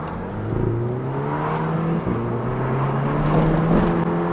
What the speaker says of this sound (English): So this car's got a very, very fruity exhaust note, so I've just popped the window down and hopefully you'll pick some of that up.